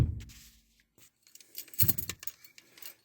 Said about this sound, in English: Oh, we got to take the key out.